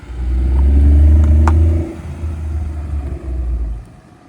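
A car engine revs hard during a drive, a loud low rumble that swells and holds, eases off, then surges again, with some clatter, heard alone.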